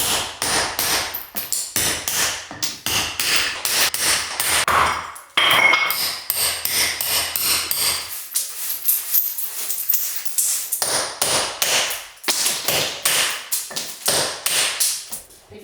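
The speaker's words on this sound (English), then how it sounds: "This is a store-bought chisel, and while it works, not nearly as good as what they make here." A store-bought steel chisel struck with a hammer against stone during finishing work on a stone house, sharp close metallic blows in quick steady runs, pausing briefly before the rhythmic striking resumes.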